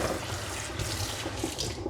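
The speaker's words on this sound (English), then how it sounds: "And just rinse that again." Water running at a sink to rinse a mesh microgreen growing tray, a steady broadband splash and trickle that stays close and fairly even throughout, with no voices.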